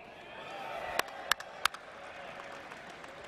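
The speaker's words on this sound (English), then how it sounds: "Go ahead and applaud." Faint, distant crowd applause fills an arena during the unveiling of Seattle's NHL team, the Kraken, with a few sharp, louder claps standing out near the middle.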